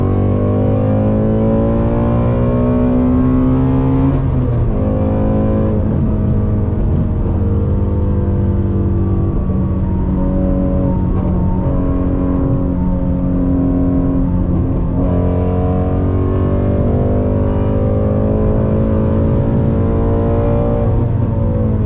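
A Ford Mustang GT350 with a manual gearbox revs steadily and loudly, its engine note rising and falling through several pulls with a dense, throaty harmonic growl, close and alone with no talk.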